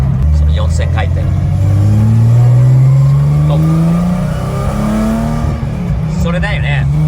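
A Nissan Fairlady Z S30 engine revs up close and loud, climbing steadily to around 4000 rpm, holding, then easing off before revving again, with the exhaust drone dominating.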